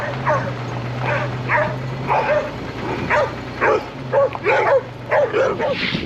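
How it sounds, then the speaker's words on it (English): Several excited dogs yip, whimper and bark in short repeated bursts over a steady low hum, close by and continuous. "It's a bunch of happy dogs."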